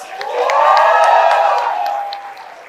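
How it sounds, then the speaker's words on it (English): Audience applause for graduating batchmates at a university convocation ceremony, a swelling wash of clapping and crowd noise that peaks midway and tapers off, fairly loud and with no talk over it. "Please applause for your batchmates."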